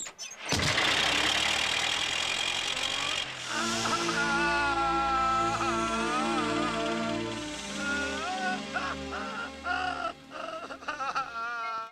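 A car engine turns over and settles into a steady running rumble, loud and close, before music takes over for most of the rest.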